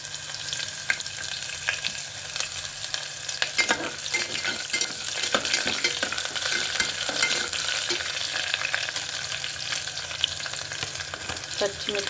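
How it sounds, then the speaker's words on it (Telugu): Sliced onions frying in a pan of oil with cinnamon and cardamom while cooking soya keema for biryani, a continuous close sizzle with scraping stirs and occasional crackles throughout. "ఉల్లిపాయలు వేస్తున్నాను."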